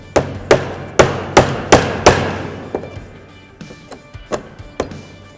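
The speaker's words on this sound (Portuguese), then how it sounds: "eu vou marcar com um prego o furo onde eu vou colocar o parafuso" A hammer drives a nail into a wooden cable spool to mark a screw hole: about a dozen sharp knocks, five or six loud evenly spaced strikes, then lighter, quicker taps, close and alone.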